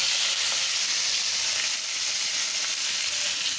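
Onion, green chili and garlic fry in hot oil with a loud, steady, close sizzle that holds throughout with no talking.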